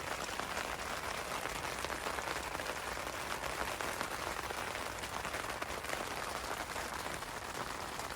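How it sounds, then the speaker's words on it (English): Rain drums steadily on a tent at a campsite, a dense even patter of drops that is fairly faint and continuous, with no voices. "Well, it's raining pretty good now."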